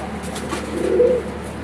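Gola pigeons give a single soft, throaty coo lasting under a second, close by and alone over a faint background hum.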